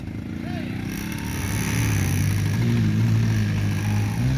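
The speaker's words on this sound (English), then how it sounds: "It's his new trial bike." A trial motorcycle climbs a steep, rooty hill, its engine droning steadily and rising in pitch and loudness as it works up the slope, with voices talking over it.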